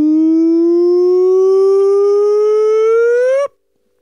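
A single voice imitates a siren, holding one long rising tone for about three and a half seconds before cutting off abruptly.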